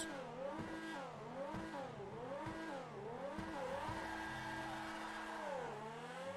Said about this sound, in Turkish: Çok hızlı bir şekilde kalkıyor görüyorsunuz.